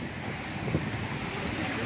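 Sea waves surging during a flood in Casablanca, heard as a continuous, close, wind-buffeted rush of water, steady and fairly loud with no distinct individual breakers.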